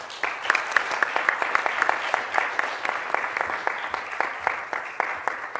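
An audience claps to welcome Jennifer Epps-Addison to the stage, a steady, dense round of applause from a crowd, close and even in loudness throughout.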